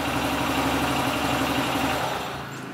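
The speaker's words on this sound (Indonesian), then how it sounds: "Turn off the engine." A motorcycle engine idles with a steady, close, throbbing rumble, then dies away at the very end as a voice-command controller switches it off.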